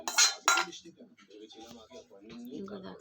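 Dishes and cutlery clink while dinner is served; two sharp, bright clatters of plates and spoons open, then lighter taps continue under someone talking nearby.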